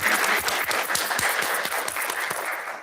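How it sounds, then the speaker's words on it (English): An audience at a college liberal arts and communication awards ceremony claps continuously, a dense, sustained wash of many hands that is loud throughout and eases slightly toward the end. "We're going to clap anyway."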